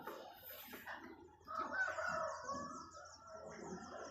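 Several chickens cluck and murmur nearby at Camp John Hay in Baguio, with a rooster-like call rising in the middle, moderately loud against a quiet outdoor background.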